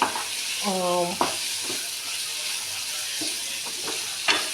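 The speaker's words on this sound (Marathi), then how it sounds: "हे आपलं पनीरची ग्रेव्हीसाठी फ्राय करून घेते मंदाच्यावरती" Paneer gravy ingredients frying gently in a pan over a low flame, a continuous hissing sizzle with a few soft utensil knocks, plus a brief tonal beep-like sound early on, close and without speech.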